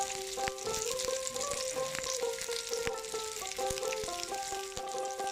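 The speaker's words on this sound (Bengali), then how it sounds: "তেল অতিরিক্ত ছিটকচ্ছে, তাই একটু ঢাকা দিয়ে দিয়ে ভাজছি" Pieces of katla fish fry in hot, spattering oil in a partly covered pan, giving a continuous close sizzle with a steady tonal background melody.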